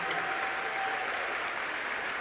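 Spectators in a high school gym at a girls basketball sectional final applaud steadily as a player checks out late in the game, a soft, even patter of clapping heard from a distance.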